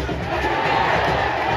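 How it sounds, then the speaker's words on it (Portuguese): ASA football supporters roar and chant together in the stands at a Série D derby against CSE, a dense, loud crowd wall throughout. "A torcida do Asa foi a delírio ali, ó."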